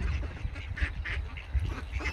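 Several large ducks quack nearby while being fed noodles, with repeated short, loud calls in irregular bursts over a low background murmur.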